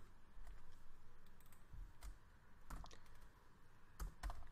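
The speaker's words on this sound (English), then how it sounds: "let us type a long question to get the answer" A long question being typed on a computer keyboard, with sparse, quiet keystroke clicks spaced unevenly over a low background hiss, and no voices.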